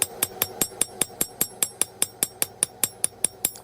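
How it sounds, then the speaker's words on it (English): Crossbeam hammer striking the edges of a hot forged steel leaf on an anvil, a steady run of about eighteen sharp ringing blows at an even, quick rhythm, close and clear with no talk. "Now I'm going to take the crossbeam hammer and I'm going to texture the edges of the leaf shape."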